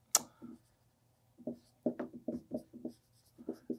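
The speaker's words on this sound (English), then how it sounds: "We're going to write down the following." Pen or marker writing out a math equation, short scratchy strokes in irregular bursts with pauses between, close and fairly quiet, no talking.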